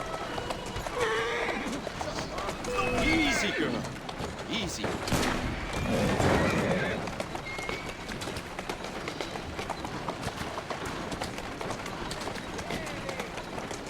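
Hooves thud in a quick running rhythm with a horse snorting and whinnying in Assassin's Creed Syndicate, under a calm voice speaking softly.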